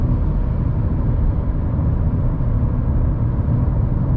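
Fiat Strada Ultra pickup engine pulling up a highway hill in Sport mode, a steady, loud broadband drone of engine and road noise heard from inside the cabin, continuous with no talk.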